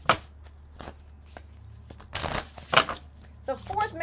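A deck of tarot cards being shuffled close by, with soft riffles and flicks that grow busier and louder toward the end, with no voice over them.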